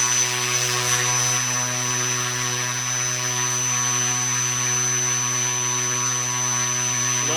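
Electric motor spinning a propeller at 40% throttle on a balancing setup, a steady, loud tonal whine with a strong constant hum and no change in speed throughout.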